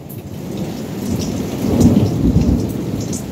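Thunderstorm with heavy rain pouring steadily close by, low thunder rumbling and swelling midway through, no voices.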